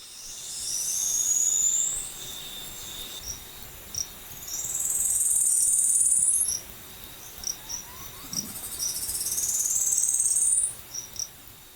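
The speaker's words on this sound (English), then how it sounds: "hear the call of the newly discovered bush baby." Repeated high, thin rising calls of a newly discovered species, Thomas's bush baby, sound in three long bursts over a steady night chorus of crickets and insects, with short chirps between them.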